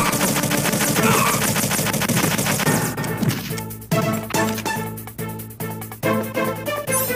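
Machine gun in a video game firing in a dense rapid stream of loud shots, then breaking into separate sharp bursts with brief pauses between them.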